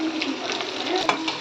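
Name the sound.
onions and garlic frying and being stirred in a pan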